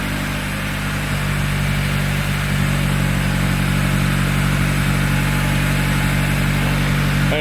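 A Honda Civic EK engine idles high with a new exhaust and no intake fitted, a loud, steady, droning hum with deep low rumble that holds unchanged throughout.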